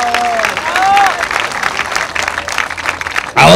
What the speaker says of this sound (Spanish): Un aplausito